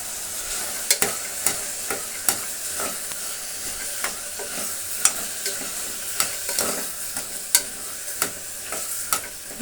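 Avarekalu field beans stirred into tomato bath in a pan, a continuous sizzle and steamy hiss broken by repeated sharp scrapes and clacks of the spoon against the pan, close and fairly loud, with no talking.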